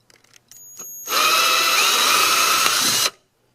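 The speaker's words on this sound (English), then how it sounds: "And then just drill it in." A power drill whirs up and bores steadily for about two seconds at high, even speed, then cuts off abruptly. It is loud and close, after a few faint clicks.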